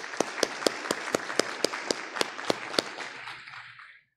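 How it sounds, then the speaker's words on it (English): Slow, sparse clapping at a county board of education meeting, about a dozen distinct sharp claps in an even rhythm over a soft bed of applause that fades out at the end. "round of applause"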